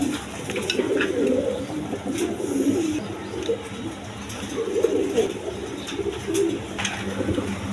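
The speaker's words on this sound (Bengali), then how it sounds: "দেখেন একটা রেইন কবুতর নটটা, আর মাদিটা হলো হাউস পিজন অ্যান্ডোলেশন কালার" A pair of pigeons, a Rain pigeon male and a House pigeon female, coo close by in repeated low throaty phrases, with faint background noise.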